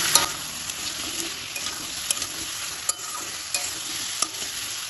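Bottle gourd pieces stir-fried in oil with salt and turmeric give a steady close sizzle, broken by regular scrapes and taps of a spatula against the pan.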